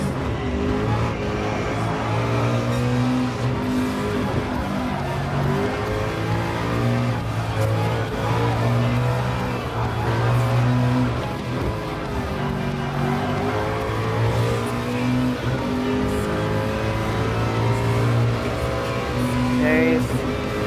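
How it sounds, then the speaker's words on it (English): A classic Group C race car in the video game Gran Turismo Sport drones loudly and continuously, its engine pitch rising and falling as it accelerates through corners. "this is going to be hard to drive around with this classic race car"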